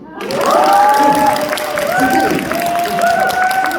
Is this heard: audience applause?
yes